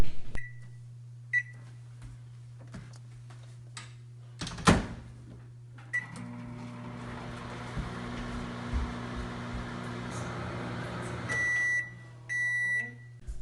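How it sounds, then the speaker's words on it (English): A microwave oven heating a s'mores maker opens and shuts with a door clunk, then hums steadily for several seconds before giving a series of loud electronic completion beeps. "And then you put it in the microwave for about 30 seconds."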